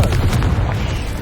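A magical fire explosion from the Confringo spell in Hogwarts Legacy, a loud, dense blast with heavy low rumble that fills the short moment with no pause.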